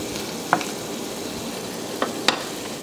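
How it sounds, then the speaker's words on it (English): Frozen seafood and rice pasta cooking together in a pan, a loud steady sizzle close up with a few brief utensil clinks and taps, no one speaking. "Frozen seafood that is cooking, and rice pasta."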